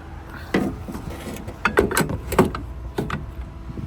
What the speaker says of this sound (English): unplugging the Polestar 2.